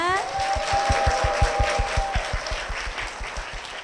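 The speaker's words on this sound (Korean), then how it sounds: "큰 박수로 모시겠습니다" Church congregation applauding a deacon's family as they are welcomed to the stage, steady broadband clapping with rhythmic low thumps throughout, a sustained tone or voice briefly heard early on.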